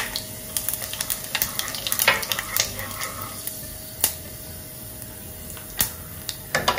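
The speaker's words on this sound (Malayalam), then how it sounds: "ഇപ്പോൾ എണ്ണ ചൂടായിട്ടുണ്ട് കടുക് ഇടുകയാണ് കടുക് പൊട്ടി വരുന്നുണ്ട്" Mustard seeds popping in hot oil for Kerala moru curry, sharp irregular crackles and pops over a low sizzle, clustered densely at first then sparser, close by with no talking.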